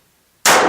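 A single sharp report from a Walther TPH .22 LR pistol firing CCI ammunition cracks out after a brief silence, loud and close, with a short decaying tail.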